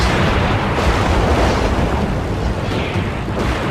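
A dense, continuous roar of heavy naval shell explosions at the Battle of Midway rumbles without pause, loud and booming, with no clear gaps between blasts.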